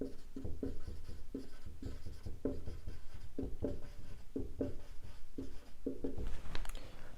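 A pen writes out maxima and minima working for a class 12 derivatives lesson, giving steady scratchy strokes in quick repeated bursts, close and fairly quiet, with no talk.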